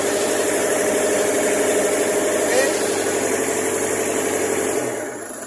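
A re-engineered Miller 500X Eco Pro welder engine runs steadily after starting, a loud, even, close mechanical drone with strong vibration that eases off slightly at the end.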